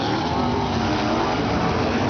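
410 wingless sprint cars roar through hot laps at Circle City on opening night, a steady, dense engine drone heard at a distance and continuing throughout without a break.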